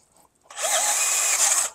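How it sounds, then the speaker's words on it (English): Power drill with a 5/16 bit boring a hole for a G-body rear disc brake conversion using S10 Blazer parts, a close, steady whine running about a second and a quarter, starting and stopping abruptly. "Two hands on the drill."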